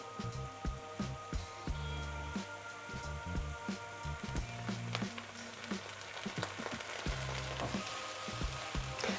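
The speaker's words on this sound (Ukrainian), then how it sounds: "Карамелізую лук перший раз" Onions with sugar and a splash of vinegar caramelize in a pan, a steady close sizzle with rhythmic crackles and stirring scrapes running throughout, no voices.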